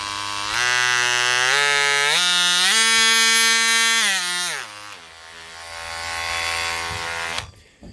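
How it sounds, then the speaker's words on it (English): A Porter Cable 20V cordless oscillating tool running close and loud as a steady high electric buzz, its pitch stepping up in speed, then dropping and winding down before it cuts off near the end. "So, nice oscillating tool."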